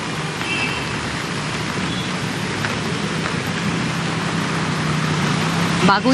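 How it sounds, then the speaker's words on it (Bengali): Heavy monsoon downpour in Kolkata pours down in a steady, dense hiss that continues without a break, with a low rumble underneath. "শহর কলকাতায় সকাল থেকেই মুষলধারে বৃষ্টি"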